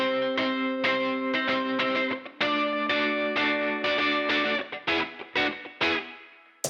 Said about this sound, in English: This is the sound of the amp off of the aux box